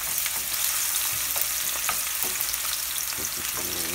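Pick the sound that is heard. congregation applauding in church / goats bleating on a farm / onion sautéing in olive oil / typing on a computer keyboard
onion sautéing in olive oil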